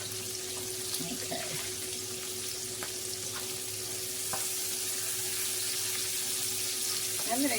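Garlic, cloves and cinnamon sticks brown gently in a frying pan under a steady, faint hiss of sizzling oil, with a low hum and a few light knocks nearby.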